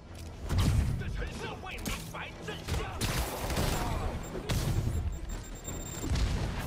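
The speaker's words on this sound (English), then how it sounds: "And whoever's shooting rockets at me." Rockets and gunfire pound Spider-Man in a video game boss fight against Mister Negative, a dense barrage of booms and thuds with rumbling blasts throughout, and a voice speaking over the din.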